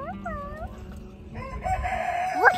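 A chicken clucks and then crows in short, bright bursts, loud and close. The crowing rises near the end over faint background noise, and nobody speaks.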